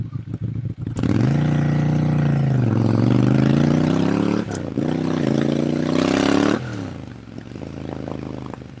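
A Ducati Monster 796 motorcycle passes close by with a loud engine note that rises and falls as it accelerates, ends with a sharp drop in revs, and then fades into a quieter rumble.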